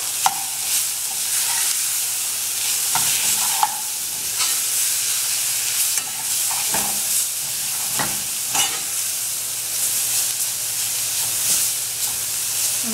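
Smoked herring frying in a pan with onions and garlic, a bright steady hiss of sizzling oil close by, broken by repeated sharp stirring clicks, with no speech.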